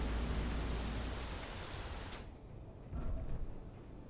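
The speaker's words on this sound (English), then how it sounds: "Let's get out of the rain." Steady rain pours down in Space Engineers, a dense, loud hiss that fills the scene, cuts off abruptly midway, then returns more muffled and quieter, as if heard from indoors.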